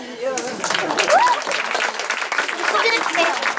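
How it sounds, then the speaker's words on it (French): Audience applause at an improv cabaret show, a steady crackle of clapping with whoops and cheers rising over it, voices calling out through the noise. "On peut les applaudir."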